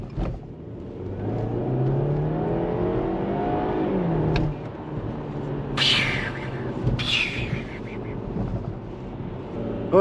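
A BMW 1 Series with a 2-litre four-cylinder engine revs hard and pulls up through the gears, a steady rising drone with wind rush, heard from inside the car; a voice speaks briefly.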